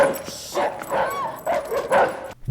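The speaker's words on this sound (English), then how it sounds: "the guard dog does not like Tyrell" A guard dog in a horror film scene yelps and whimpers in repeated bursts, close and fairly loud, with a little speech mixed in.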